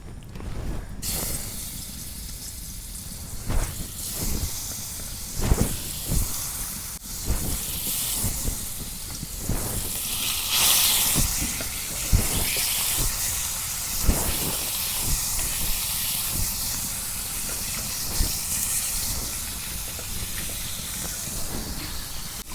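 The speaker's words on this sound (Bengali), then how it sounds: "তেল গরম হয়েছে, এখন মাছগুলো দিয়ে দিই।" Rupchanda (pomfret) fish frying in hot mustard oil in a pan, a steady loud sizzling hiss throughout with scattered sharp pops and crackles, no talking.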